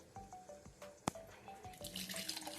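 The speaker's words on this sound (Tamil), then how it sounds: "இப்போ தண்ணி ஊற்றி கொஞ்சம் கெட்டியாக கரைச்சிக்கலாம்." Water is poured into ground millet paste while making kammangool, a soft trickling splash with small drips and rising liquid noise, quiet and close.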